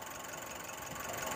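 Steady, quiet idle of a 2019 Nissan NV350 twin cam turbo engine, a smooth continuous hum with a light rhythmic pulse, recorded close by.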